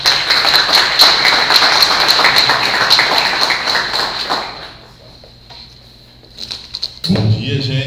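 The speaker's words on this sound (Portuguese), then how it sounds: "por favor, uma salva de palmas" Lecture audience applauding a speaker at a public administration and data analysis talk during a graduate studies week, a sustained patter of clapping that fades out, followed by a few scattered claps and a voice starting to speak.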